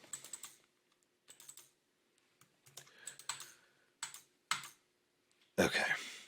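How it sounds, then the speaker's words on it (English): Computer keyboard typing and mouse clicking during Photoshop editing, in short bursts of close, quick key and click taps separated by pauses, ending with a louder cluster of clicks; no talking. "I'm pressing Alt, clicking and dragging"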